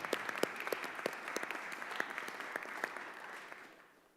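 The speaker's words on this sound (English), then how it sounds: "I think the students should give them a round of applause." Clapping from the audience at a bipartisan congressional roundtable on antisemitism at colleges, a soft, slightly distant patter of many hands with sharp individual claps, fading out toward the end.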